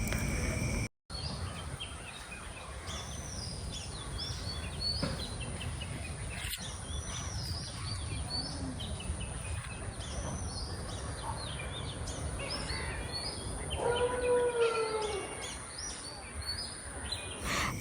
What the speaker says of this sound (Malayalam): നമ്മുടെ ഈ ഒരു പ്രദേശത്തുള്ള ഒരു കിളികളുടെയൊക്കെ ഒരു ശബ്ദം നിങ്ങൾ കേൾക്കുന്നില്ലേ?